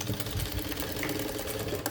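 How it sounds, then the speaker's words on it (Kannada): A sewing machine stitching a semi high neck blouse, a close steady mechanical whir with a fast rhythmic needle chatter running throughout, alone without talk. "ಇನ್ನೊಂದು ಡಬಲ್ ಸ್ಟಿಚ್ ಹಾಕ್ತಿದ್ದೀನಿ"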